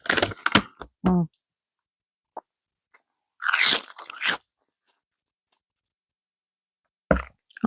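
Close, crisp crunches of seaweed chips being bitten and chewed, a quick cluster of snaps, a longer crunching burst mid-way, then one final crunch after a pause.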